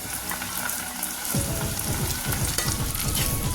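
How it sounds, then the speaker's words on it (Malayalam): Snake gourd sautéing with onions in a pan, a quieter sizzle that swells into vigorous stirring and louder frying partway through, close and steady. "ഇതുപോലെ ഒന്ന് വഴറ്റിയെടുക്കാം"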